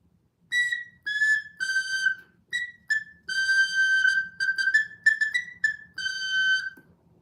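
Two whistles, one in C and one in F, sound together in a series of short and sustained blown notes, clear and close with pauses between phrases, no voices.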